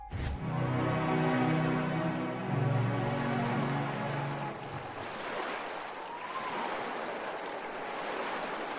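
Ocean waves on a sea ride, a steady broad rush of water and surf with a low droning tone fading out midway, fairly loud and continuous throughout.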